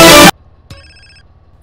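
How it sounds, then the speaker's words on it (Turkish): A phone ringtone in a GTA San Andreas game scene: one bright electronic ring tone with steady harmonic chimes, about half a second long, heard alone after a loud burst of noise cuts off. "çalma artık be telefon ya"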